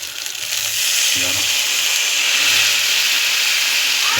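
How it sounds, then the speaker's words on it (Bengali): Coconut milk goes into hot oil and spices for prawn malai curry. It sets off a loud, steady, broadband sizzle that holds for several seconds, with no voices. "এবার আমরা দিয়ে দেবো নারকেলের দুধটা।"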